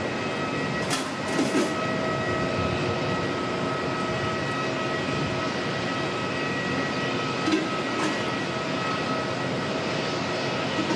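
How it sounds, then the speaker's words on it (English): Brake cooling fans whir on a Jetstar airliner parked at Auckland Airport, a steady distant mechanical hum with broadband airport rumble and a few faint brief noises over it. "Still hear the brake fans running on the earlier Jetstar arrival."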